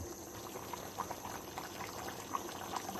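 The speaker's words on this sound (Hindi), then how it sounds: "तो इसमें उबाल आ चुका है" Water at a rolling boil in a pot of beef golden pulao, a faint steady bubbling with small pops scattered throughout.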